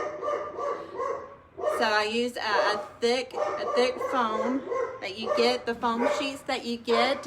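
A dog barks repeatedly from a lower floor of a house, distant and fairly faint, under steady close-up talking that runs through the whole stretch.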